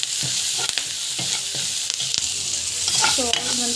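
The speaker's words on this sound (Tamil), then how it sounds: "பெருங்காயம், சால்ட்டு நல்லா போட்டு வதக்கிக்கோங்க." Turmeric, asafoetida and salt sauté in a hot pan in a home kitchen, with a steady close sizzle throughout and a spoon scraping and stirring in irregular strokes, with no one speaking.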